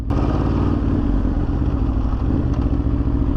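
Motorcycle on a riding school course during a rear brake test, its engine running loud and close with a steady mechanical clatter for the whole stretch.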